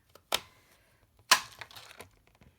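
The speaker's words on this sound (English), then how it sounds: "I'm going to be punching them out of a different color here." A paper punch cuts basket shapes from cardstock with two distinct crisp clunks about a second apart, followed by faint paper rustling and small handling ticks; no talking.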